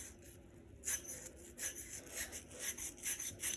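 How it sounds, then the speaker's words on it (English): Small bristle mouthpiece brush scrubbing inside a brass instrument mouthpiece, quiet close-up rubbing strokes in a quick back-and-forth rhythm. "I'm just going to take that brush, my little mouthpiece brush, and I'm just going to scrub it down in there and go through both sides of it"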